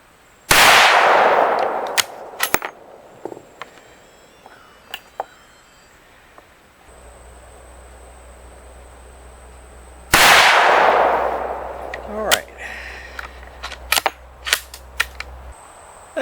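Two sharp, loud rifle shots from a Savage 110 Engage chambered in 350 Legend at an outdoor rifle range, spaced about ten seconds apart, each with a long echoing decay followed by small clanks and handling noises.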